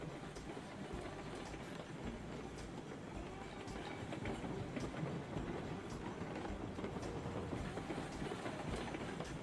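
A freight train rolls along a mountain line in the railroad game Railroads Online, a continuous close rumble with steady clickety-clack of wheels over rail joints and no talk.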